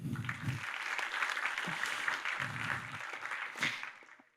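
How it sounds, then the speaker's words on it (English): A conference audience applauds the technical crew with steady, fairly distant clapping that carries through the whole stretch, with brief voices and murmurs underneath. "So have some applause for them."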